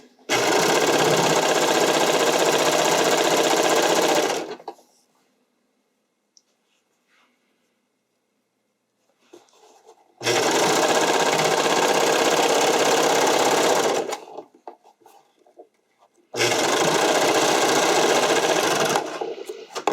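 A serger overlock machine stitches figure skating skirt fabric in three loud, steady, rapid runs of whirring, with short quiet pauses between them, close up and with no voices.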